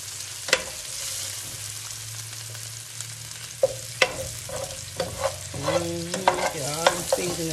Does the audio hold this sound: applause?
no